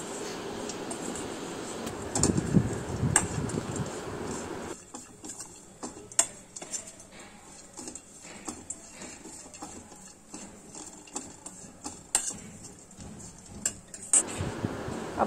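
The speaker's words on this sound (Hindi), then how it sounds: "नारियल मैंने कद्दूकस करके रखा है उसको भी अच्छे से भून लेंगे" Grated coconut roasting in a pan for suji modak, with a spatula stirring and scraping in light, irregular ticks and clinks against the metal over a steady low background, and no voices.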